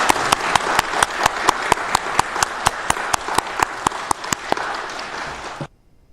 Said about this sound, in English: can I propose a round of applause, please, for Pippa?